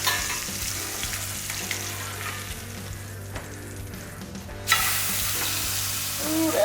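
Blackened Cajun catfish sizzles steadily in a hot pan, then flares into a loud, bright hiss as it is turned, with faint utensil scrapes near the end.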